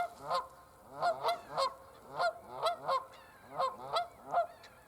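Geese honk repeatedly in loud, close bursts beside a former boat mooring, several birds calling over one another in an irregular rhythm with brief gaps between calls.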